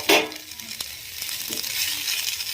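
Tomato pieces dropped into hot oil with fried coriander leaves, a short burst of stirring clatter at the start settling into a steady close sizzle and frying hiss with a few light utensil taps.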